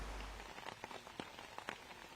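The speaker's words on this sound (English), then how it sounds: "With the rain really coming down, Gavin Babcock forehand." Rain pours down over a disc golf course, a steady soft hiss with scattered louder drops spattering on nearby surfaces. It is faint and continuous, with no voices.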